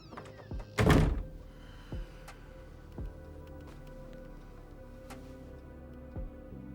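A bathroom door slams shut in a film scene from Memento, one loud close thud standing out early, followed by fainter knocks and taps against a quiet room background.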